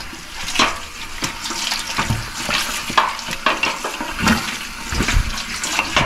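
Tap water runs steadily over a freshly butchered rabbit being rinsed of blood, a continuous close splashing hiss with small shifting surges and no talk.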